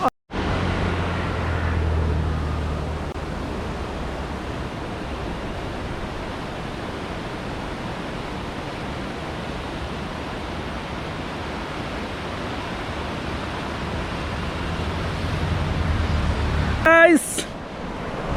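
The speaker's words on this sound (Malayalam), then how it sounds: "അപ്പോൾ അതെ പുഴ ഇങ്ങനെ നിറഞ്ഞൊഴുകി വരുന്നത് നിങ്ങൾ കണ്ടില്ലേ" A swollen river rushes at Charpa waterfall above Athirappilly, making a continuous broadband roar of water that stays even and loud throughout, with a brief sharp sound near the end.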